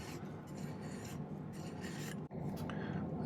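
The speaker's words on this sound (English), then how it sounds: "I'm going to go ahead and file it." A hand file rasps steadily along a silver edge cut with snips, close and continuous for about three seconds with one brief pause and no voices.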